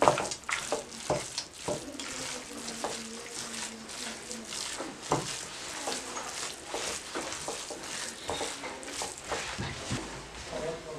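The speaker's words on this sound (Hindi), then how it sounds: "बादाम, इसमें काजू और पिस्ते, इसमें उनको अच्छी तरह से मिक्स कर लें।" Gajar halwa being stirred after almonds, cashews and pistachios are added, a thick mixture scraped and pushed around the pan in repeated strokes, close and fairly quiet, with no talking.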